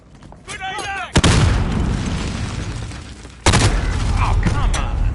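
Grenade explosions in the video game Modern Warfare: two sharp, loud booms about two seconds apart, each followed by a long rumbling tail, with a brief voice and a whistling sound before the first blast.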